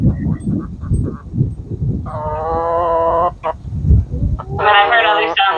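A hen gives two loud, honking, sustained calls close by, between bursts of lower clucking and rustling.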